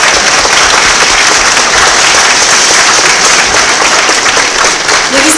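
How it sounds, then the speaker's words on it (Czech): Loud, sustained applause from an audience at a Christmas carol performance in Valašská Bystřice, rewarding a cymbalom folk band; dense, even clapping fills the whole stretch without a break. "Ještě jednou velký potlesk."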